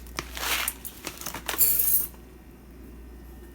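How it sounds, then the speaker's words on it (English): A cup of dry rice is poured into a saucepan, giving a brief rattling hiss of grains against the pan for about two seconds before falling quiet. "Start from adding a cup of your rice into your saucepan"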